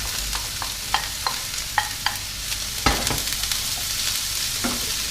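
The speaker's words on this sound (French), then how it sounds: "j'ai mis une poêle à chauffer avec de l'huile d'olive. Je vais mettre mes échalotes et mes champignons." Shallots and mushrooms fry in olive oil in a heated pan, a bright continuous sizzle with sharp clicks of a utensil against the pan now and then, close by and with no voices.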